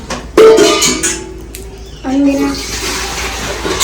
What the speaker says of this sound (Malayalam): അപ്പോൾ ഇതിൽ വെള്ളം വെക്കണം